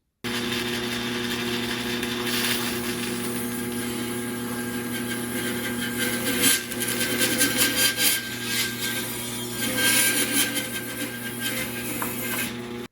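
A hand saw cutting off the bottom of a wooden off-centre tree piece, a steady rasping stroke pattern over a constant machine hum, growing rougher and louder midway, with no talk.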